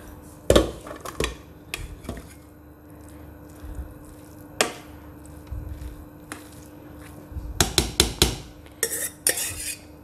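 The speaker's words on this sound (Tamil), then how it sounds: "ஹாட் பாக்ஸில் கொட்டிக்கிறேன்." Palak biryani scooped from a steamed pot into a hot box, with metal spoon scrapes and clanks against the pot coming in irregular bursts, loudest near the end, over a quiet kitchen background.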